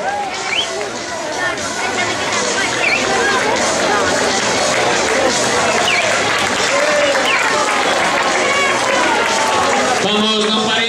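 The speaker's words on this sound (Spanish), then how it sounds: "Fuerte aplauso para todos." A crowd of spectators at a running race in Carballiño claps and cheers continuously for the runners, a dense, sustained wash of applause with shouting and a voice calling out over it near the end.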